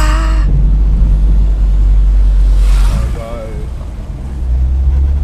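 A Peugeot 207 SW Escapade 2010 with a 16-valve 1.6 engine drones on the move, a low rumbling hum that dips and swells again, with voices talking faintly over it from inside the cabin.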